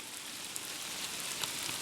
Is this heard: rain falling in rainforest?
yes